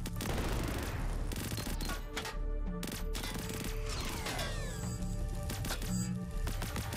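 Video game gunfire from Greedland, rapid crackling bursts of shots repeating over game sounds, loud and close with short pauses between volleys.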